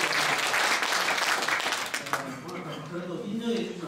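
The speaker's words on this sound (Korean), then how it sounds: "박수 한번 치고 하자고요" Audience applause at a market merchants' association workshop in Chungnam, a dense burst of many hands clapping that fades slightly, with voices talking underneath.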